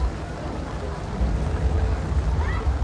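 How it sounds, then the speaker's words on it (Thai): Light rain falls steadily over a river on a boat trip near a busy waterway with cruise boats, a broadband patter and hiss with low rumble continuing throughout at moderate level, no talk. "ตอนนี้ฝนตกพำมๆ"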